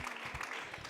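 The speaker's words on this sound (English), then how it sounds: "Let's give us one applause to Jochen Flasbarth." A short burst of audience applause at a meeting with a German state secretary, many hands clapping together in a brief, fairly close patter.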